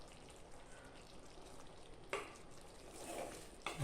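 Curry with chilli flakes and coriander powder sizzling and frying in a pan while it is stirred, with a steady faint crackle and a couple of sharper scraping strokes.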